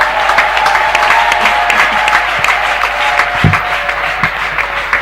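A church congregation claps and cheers continuously at a worship service, a loud, dense wash of applause heard close up throughout.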